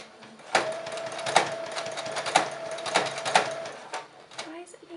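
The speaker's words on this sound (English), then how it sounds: "actually sewing on a sewing machine" A sewing machine runs in short stitching bursts with sharp periodic clicks and a faint whine, fairly quiet and close, with a voice speaking over it.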